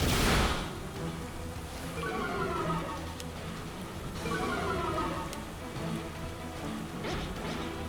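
Rain Dance rain effect in the Pokemon Violet video game, a steady hiss of falling rain with a dense noisy wash and brief crashing hits over game music, loud at the start and continuous throughout.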